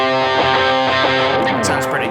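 Loud electric guitar through overdrive distortion and delay plays a few sustained chords in succession, with a full, saturated tone and a lingering echo-like trail.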